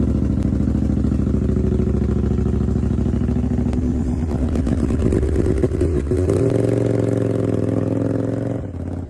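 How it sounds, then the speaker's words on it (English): A homemade steam-powered motorcycle engine runs steadily up close, loud and droning, its pitch shifting a couple of times before it cuts off at the end. "This guy built a truly unique motorcycle."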